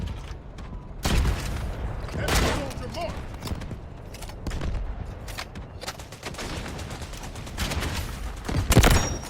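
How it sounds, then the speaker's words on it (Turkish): Bursts of gunfire and loud kill explosion effects in the video game Delta Force's Conquest mode, sharp repeated shots scattered through the clip, with a voice talking over them. "bu headshot kill patlama sesi bunlara bir ayar lazım ya"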